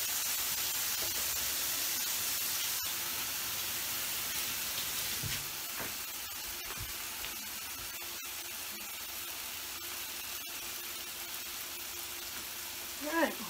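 Bacon strips sizzle steadily in a frying pan, a constant bright crackling hiss that runs the whole time with occasional small pops, with a faint voice briefly at the end.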